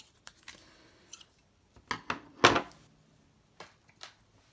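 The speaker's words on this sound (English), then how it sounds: "And then I'm just gonna trim my doily." Scissors trimming a paper doily on a handmade Memorydex card: a handful of short, crisp snips spaced irregularly, close and fairly quiet, with one louder cut in the middle.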